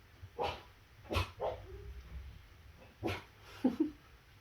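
Several short barks and yips from more than one dog at moderate distance, irregular and spaced out, with a whimpering yelp near the end.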